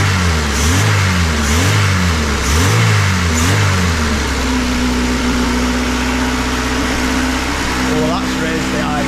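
A Honda Civic engine warming up, revving in repeated rising and falling surges for about four seconds, then settling into a steady, loud idle with a constant tone; a voice is heard faintly toward the end.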